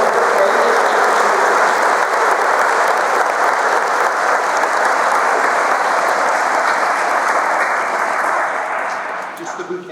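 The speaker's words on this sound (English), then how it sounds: "Let's give them a round of applause" An audience at a 5th grade promotion ceremony applauds loudly and continuously for ten seconds, with a few cheers, before the clapping starts to fade at the end.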